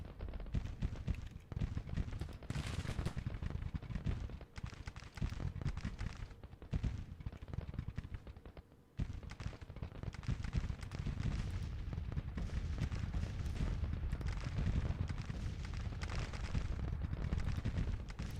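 Counter-battery artillery fire in the Grand Tactician strategy game rumbles as dense, overlapping booms and crackling gunfire, loud and nearly constant, with one brief dip midway.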